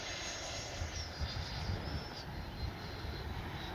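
An FMS 80mm F-86 Skyblazer RC jet flies at a distance, its ducted fan giving a steady whining rush with a gently shifting high pitch over low wind rumble.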